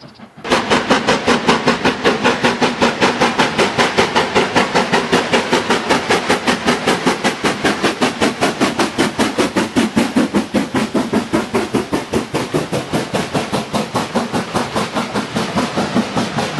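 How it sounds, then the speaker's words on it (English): Black 5 steam locomotive number 44871 chuffs along in a fast, steady, strongly rhythmic run of exhaust beats, loud and close throughout with no voices. "Here's Black 5 number 44871 in action."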